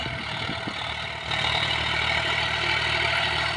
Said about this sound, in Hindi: क्या शानदार ट्रैक्टर चला रहा है।